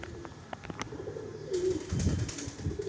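A male Madrasi pigeon coos in low, soft, throaty phrases close by, with light rustling and faint background activity and no voices over it.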